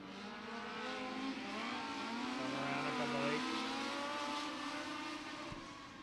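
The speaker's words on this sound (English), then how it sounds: "They roll down the back straightaway, coming around to the white flag this time for Mills." Local-class race cars circle an oval short track at Beckley Motor Speedway in a heat race, engines droning and revving steadily at a distance, faint and continuous with no voices over them.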